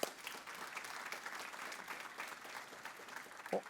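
A church audience gives a round of applause, a moderate, continuous clatter of many hands at a steady level, with a couple of brief louder knocks near the beginning and the end.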